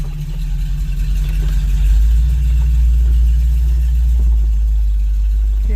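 Old green truck's engine rumbling as it pulls out, a deep, heavy low idle-to-drive drone that swells slightly and stays steady and close, with no talking.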